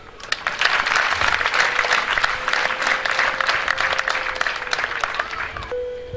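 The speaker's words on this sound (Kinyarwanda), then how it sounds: "Reka nongere nsaba amashyi y'Imana ku bwanyu." A church congregation at a revival gathering breaks into sustained, dense applause that fills the room at steady loudness for several seconds before tapering off, with a faint tone lingering near the end.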